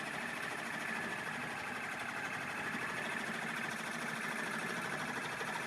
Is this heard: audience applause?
no